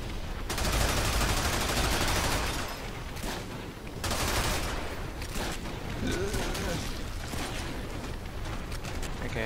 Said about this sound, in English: Luckily, I can shoot him.